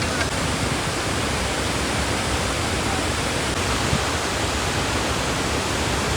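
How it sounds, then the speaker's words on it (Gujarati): Gira waterfall at Saputara roars as a steady, loud, broadband rush of falling water, unbroken and close by for the whole stretch, with no talk over it. "મારી પાછળ તમે જોઈ શકો છો વોટરફોલમાં"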